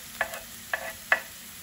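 Onions, shallots and garlic cloves going into a pan for halibut Provençal, a low sizzle punctuated by three short, distinct clinks of a utensil against the pan, no talking.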